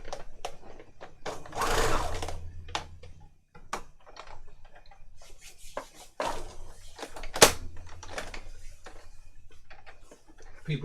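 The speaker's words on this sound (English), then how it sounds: "I'm just going to sew mine up quickly on my machine." A sewing machine runs in bursts, stitching fabric pockets for a handmade boho junk journal, with rapid whirring runs broken by pauses and small clicks and taps of handling close by.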